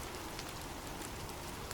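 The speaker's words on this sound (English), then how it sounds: "The sound of abundant rain." Heavy, abundant rain pours down steadily, a dense continuous hiss of drops hitting surfaces with no pauses and no voices.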